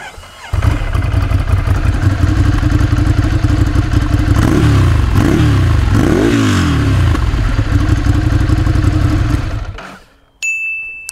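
A Ducati Scrambler motorcycle starts up and idles loudly close by, then revs several times in quick rising sweeps before the engine cuts off, followed by a faint electronic tone.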